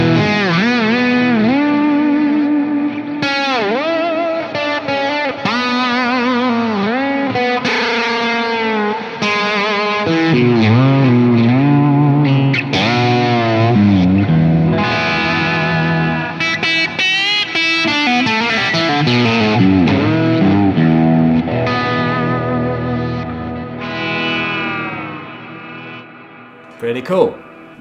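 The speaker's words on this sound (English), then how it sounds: "I can add reverse delay to it, which sounds like this without the Ventris." Electric guitar played through a reverse delay effect, swelling backward notes and distorted, effect-laden tones ringing continuously and loud for nearly half a minute with no one talking.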